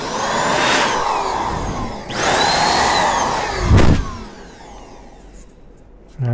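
An AirTec Type 6 electric computer duster blows air in loud, steady whooshing bursts, several surges with brief dips between them, then falling quiet near the end.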